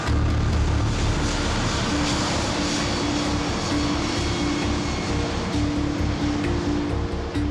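Boeing 777 airliner on flight MH370 taking off, a loud, steady roar of jet engines with a constant low rumble and broad hiss that holds level from start to finish, with no voices.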